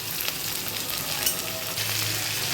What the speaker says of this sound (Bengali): এবার পেঁয়াজ কুচি দিয়ে দিচ্ছি